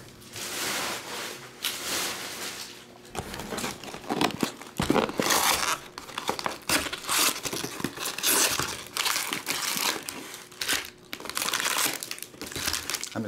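Foil wrappers of 2021 Topps Series 1 baseball card packs from a jumbo box are crinkled and torn open in quick bursts, a steady run of close, loud crackling and tearing with no voices.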